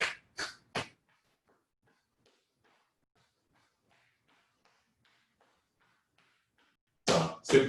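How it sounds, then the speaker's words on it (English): Quick, sharp exhales through the nose: three short puffs at the start, then near silence, then two more bursts at the end, close and breathy. "Exhaling each side through the nose."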